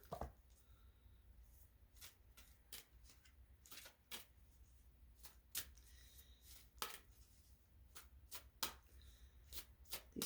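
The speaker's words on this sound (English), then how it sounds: "These cards are oversized. They're really hard to shuffle." Oversized oracle cards being shuffled by hand, a series of crisp riffling bursts in irregular succession, close and fairly quiet with no talking.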